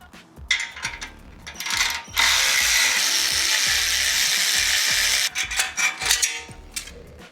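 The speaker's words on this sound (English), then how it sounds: "We gotta take out these clamps." Mechanical ratcheting from a hand tool loosening exhaust clamps on a Harley-Davidson Road Glide, bursts of clicking followed by a long steady whirring run, close and fairly loud with no talking.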